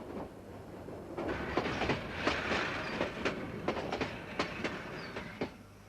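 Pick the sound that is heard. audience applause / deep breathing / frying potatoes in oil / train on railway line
train on railway line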